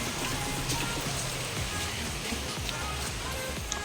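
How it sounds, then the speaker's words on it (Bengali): Heavy rain pours down in a dense, continuous hiss of drops drumming on surfaces, steady and loud for the whole stretch. "দেখো জোর বৃষ্টি হচ্ছে"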